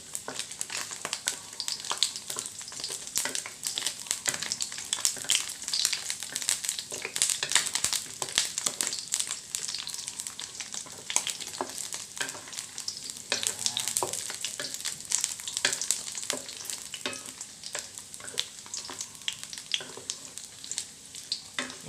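Minced pork stir-fried with salted egg yolk and mushrooms in a hot pan, a steady close crackling sizzle with frequent sharp scrapes and clatters of the spatula, continuous and loud without voices.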